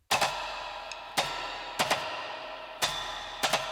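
Percussion hits drenched in a huge, Abbey Road style reverb: a few sharp strikes, some doubled, each trailing into a long, spacious decay, with no voices.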